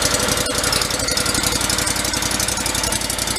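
A Terramite small engine idles and warms up after a thrown-rod repair, a loud, steady rapid knocking chug running continuously with no one talking.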